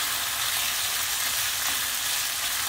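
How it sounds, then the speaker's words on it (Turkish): Meat sautés in olive oil for hünkar beğendi, a loud, steady, close-up sizzling hiss that stays even from start to finish, with no voices. "Biraz zeytinyağını da kavuruyorum."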